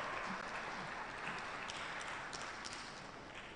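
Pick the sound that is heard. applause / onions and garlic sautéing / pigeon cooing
applause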